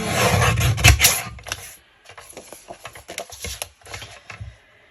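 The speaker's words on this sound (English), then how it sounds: "Trim that with my scissors." Scissors trimming a sheet of printed photo paper for a December Daily scrapbook page, heard as close, dry snipping and rasping cuts, a dense burst at first and then scattered short snips.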